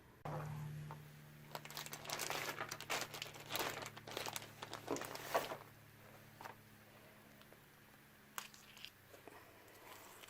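Roasted green chiles having their skins peeled off by hand, heard as close, soft crinkling and crackling in bursts over a faint steady hum, tapering to sparse rustles.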